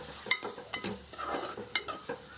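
A spoon stirs spring onion and tomato curry in a pan, giving soft scraping strokes and faint sizzling, with a few sharp clinks of utensil against metal at irregular intervals.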